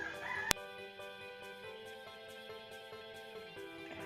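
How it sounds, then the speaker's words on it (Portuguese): A neighbor's rooster crows in a long, drawn-out call that carries steadily throughout, opening with a sharp click. "o galo não para de cantar, mas o galo não é meu não, hein gente, é o galo do vizinho"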